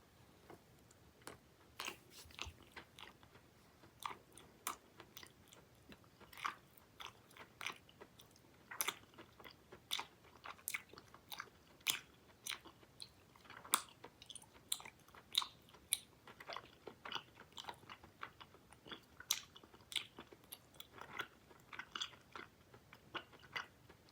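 Close-up chewing of soft Big League Chew bubble gum, a quiet steady run of wet clicks, smacks and crunchy bites repeating irregularly, no talk.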